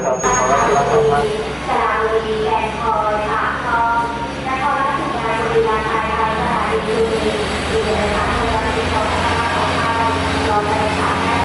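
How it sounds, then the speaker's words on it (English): Rumbling ambience at a UTA train station, with a low mechanical drone and a steady hum, while people talk continuously in the background. "So I'm here at a UTA train station"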